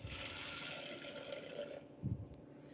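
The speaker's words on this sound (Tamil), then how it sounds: "தண்ணி 2 கப் ஊற்றிக்கலாம்." Water pours into a pressure cooker holding roasted, peeled groundnuts: a soft, steady splashing stream for about two seconds, then stops, followed by a faint low knock.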